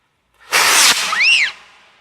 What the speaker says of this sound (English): One completed great big rocket engine that I don't know whether it'll work or not.